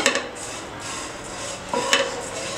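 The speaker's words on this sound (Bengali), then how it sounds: "এবার সেমাইটাকে আমি সুন্দরভাবে ভেজে নিব।" Vermicelli (semai) fries slowly over low heat in a pan while a utensil stirs it. Metal scrapes and a few clinks against the pan sit over a quiet background, with no talking.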